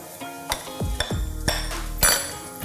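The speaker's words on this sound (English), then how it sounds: "Quickly just mix and toss everything together." Spiced pears tossed with pecans and butter in a pan, several sharp clanks and scrapes of a utensil against the dish in an uneven rhythm, with a light sizzle between hits.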